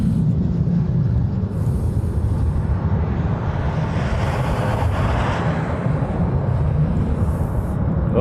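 F-22 fighter jets passing over a Hawaii planespotting spot, a loud, continuous broadband jet roar that holds steady throughout, heavy in the low end with a hissy wash above, no voices.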